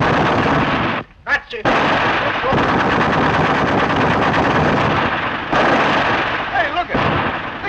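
Sustained machine gun fire from a 1932 gangster film shootout, a loud continuous rattling barrage with brief breaks, while a voice speaks over it.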